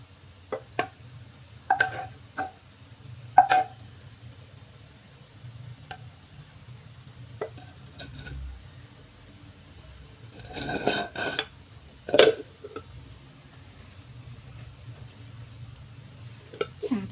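Spicy fried snails are served onto a plate amid sparse clinks and taps of dishes and cutlery. The sharp hits are separated by quiet gaps, with a short busier cluster of clatter midway.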